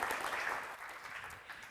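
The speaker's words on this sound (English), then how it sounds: "So once again, round of applause, please." Faint, continuous audience applause for a speaker at an astronomy conference, a steady wash of many hands clapping at a distance.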